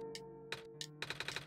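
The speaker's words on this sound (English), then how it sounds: "The typing noise." Typing sound effect from the video game OneShot, text appearing as a quick series of soft clicks: a few short isolated bursts, then a rapid run of evenly spaced ticks over a steady tonal music bed.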